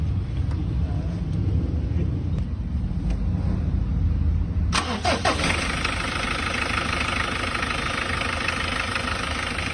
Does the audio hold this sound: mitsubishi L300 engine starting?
yes